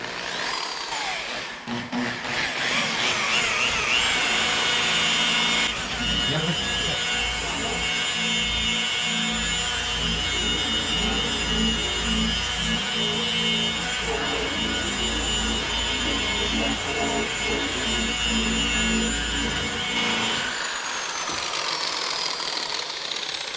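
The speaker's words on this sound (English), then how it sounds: "All right, let's give it a buff." A power buffer fitted with a wool pad runs steadily against a deoxidized headlight lens in a shop, a continuous motor whine with slight pitch shifts, loud and close, starting and stopping near the ends.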